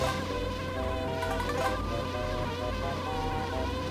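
A dense swarm of bees buzzes loudly and steadily in the Banjo-Kazooie video game, a continuous whining drone with no talk over it.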